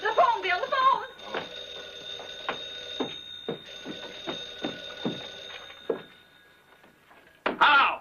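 An old telephone bell rings in a 1950 comedy film, a series of sharp metallic rings repeating at regular intervals with a sustained tone between them, followed by a burst of voices at the end; people talk at the start as well.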